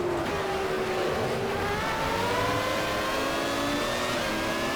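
Screaming 1996 Formula 1 engine from an Automobilista sim mod at Albert Park, rising in pitch as the car accelerates after a short shift into fourth, steady, loud and unbroken, with no voices.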